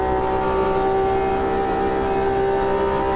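A Porsche RSR race car engine in Automobilista 2 holds a loud, steady, high-pitched note with strong harmonics, sustained and close, with no talk over it.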